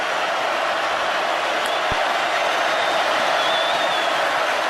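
Loud stadium crowd at the Auburn at Alabama Iron Bowl college football game, a dense continuous roar of voices and noise holding steady throughout.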